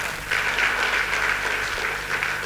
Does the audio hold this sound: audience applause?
yes